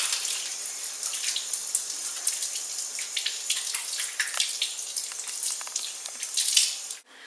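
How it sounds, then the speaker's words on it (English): Hands washed under a running tap in a laboratory, a steady close splash and hiss of flowing water with small irregular spatters, then a sudden stop. "So they have to wash their hands."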